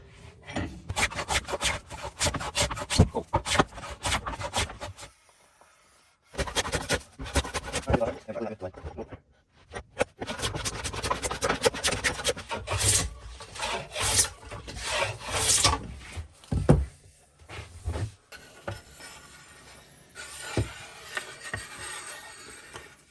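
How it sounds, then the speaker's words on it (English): Hand plane working along a wooden cabinet side, leveling a hump then planing evenly; repeated rasping strokes in bursts separated by short pauses, close and fairly loud, no talk. "which we start by this hump here and then just evenly planing the rest."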